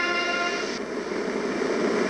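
A train sound effect in a radio advert aired during a high school basketball broadcast: a loud, steady, multi-tone horn blast fills the whole stretch with rumbling rail noise beneath, and no one speaks.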